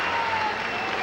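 The crowd at a 1978 tennis match between the LA Strings and the Golden Gaters claps in a brief, steady burst that stays dense and fairly loud the whole time.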